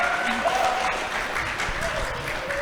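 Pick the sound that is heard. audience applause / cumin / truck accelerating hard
audience applause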